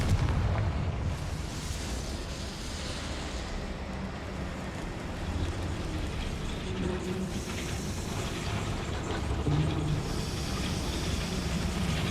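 Confringo blasting-spell explosion in a video game, a loud, sustained rumbling roar of fire and debris with small bursts across it, no talk.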